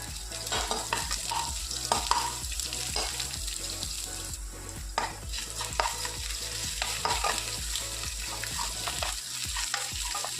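Shallots and green chillies sauté in a pan for a cabbage thoran, a continuous close sizzle with repeated scraping and stirring strokes, no talk.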